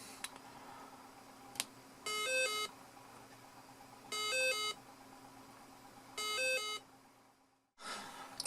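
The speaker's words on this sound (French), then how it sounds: "Et le dernier son, donc c'est celui de l'ambulance." A French ambulance siren sounding in three short separate bursts of rapid two-tone alternation, each under a second long with pauses between, fairly close over a quiet background hum.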